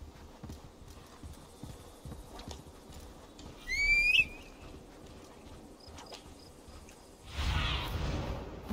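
A horse ridden as a mount in the video game Assassin's Creed Valhalla clip-clops at a steady trot, with a short whinny midway and a whooshing rush near the end.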